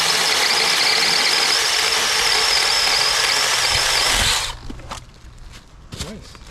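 A small NaTiddy mini chainsaw cuts through wood with a loud, steady high-pitched whine for about four seconds, then stops abruptly, leaving faint clicks and handling noises.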